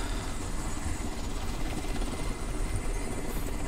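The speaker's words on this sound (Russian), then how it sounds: "Нет, вертолеты в этой игре это просто, не знаю, это какие-то имбоватые существа." A helicopter in the video game Crysis makes a continuous close rotor thrum and engine roar, steady and dense throughout the short stretch with no talk.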